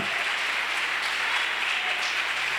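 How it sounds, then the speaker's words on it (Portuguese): A church congregation claps together in steady, dense applause that holds at an even, moderate level throughout. "aplauda mais forte. Mistura essa palma com glória."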